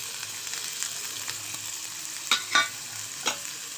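Onions sizzle in hot oil in a kadai, an even, close hiss broken by a few sharp scraping taps of stirring.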